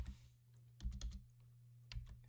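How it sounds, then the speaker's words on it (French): Keys pressed on a computer keyboard, a few short clusters of crisp clicks separated by quiet gaps, close by over a low steady hum. "vous appuyez sur la touche S du clavier et vous cliquez"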